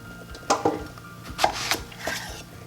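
A knife chops through squash on a cutting board in a home kitchen, with several sharp, separate thunks at an uneven pace. The sound is close and fairly quiet.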